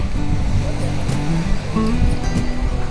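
Sea waves wash onto Chao Lao beach in a steady, loud surf roar, with a voice faintly underneath.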